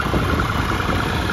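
2014 Triumph Tiger Explorer ABS motorcycle engine running close by, a steady, loud mechanical churn with slight pulsing rhythm, sounding more like a held idle than sharp revving.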